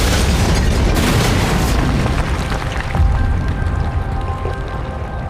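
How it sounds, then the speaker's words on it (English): A bomb blast in a documentary reenactment of the attack at the Wolf's Lair roars as a loud, dense, sustained boom. Crackling, debris-like noise follows, then fades into a rumbling aftermath. "In the aftermath of the explosion, panicked Nazis race to locate Hitler."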